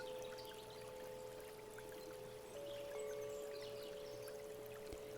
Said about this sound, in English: the water immediately begins to bubble up from the ground beneath you, as if the fountain had overflowed all over the ground beneath your feet